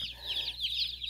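A flock of Cornish Cross chicks peeps continuously in high, rapid chirps, a soft steady chorus that fills the short moment without any voices.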